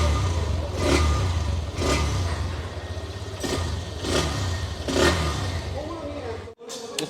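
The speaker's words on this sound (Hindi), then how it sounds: "सबसे पहले आपको इसके इंजन और एग्जॉस्ट के साउंड को आपको यहाँ पर चेकआउट करा देता हूँ" Hero Xtreme 125R motorcycle, a 2025 single-seat ABS model, running with its engine and exhaust throbbing steadily nearby, swelling in a few rhythmic revs before cutting off abruptly near the end, with someone talking over it.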